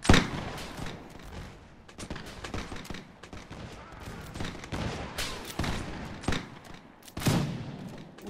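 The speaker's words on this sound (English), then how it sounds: "Will you stop shooting at me, you bastards?" Musket-era gunfire in the Mount&Blade mod L'aigle: sharp shots crack out in quick irregular bursts, some near and loud, others farther off, forming a ragged running fusillade.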